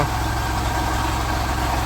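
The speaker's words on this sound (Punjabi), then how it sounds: "ਬਾਕੀ ਟਰੈਕਟਰ ਚੱਲ ਰਿਹਾ" A steady, throbbing tractor engine idles close by, low and rumbling with a regular knock, unbroken and loud throughout.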